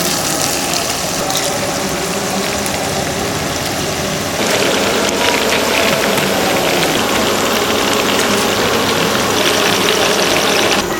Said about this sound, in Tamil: இப்போ நல்லெண்ணெய் நல்லா காஞ்சாச்சு. நம்ம மீனை பொரிப்போம்.